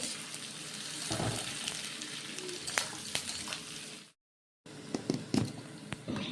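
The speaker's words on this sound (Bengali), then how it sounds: "আর পেঁয়াজ দিয়ে দিয়েছি 150 গ্রাম মতো, দিয়ে এটাকে লাল করে ভেজে নেব।" About 150 grams of onions sizzle in a pan, being browned for a village-style mutton curry, with steady frying hiss, occasional stirring clinks and a brief dropout to silence partway through.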